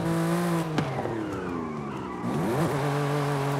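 A stock car drifting in Forza Horizon 5, its engine droning loud and close with a steady high harmonic tone. The pitch dips sharply midway, then swoops back up alongside a scrubbing tire skid.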